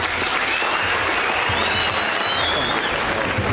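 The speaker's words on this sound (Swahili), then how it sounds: "tumpigie makofi mara nyingine tena" Mourners at a Kenyan funeral service applaud loudly and continuously, a dense crowd of clapping with faint voices and a few whistle-like tones mixed in.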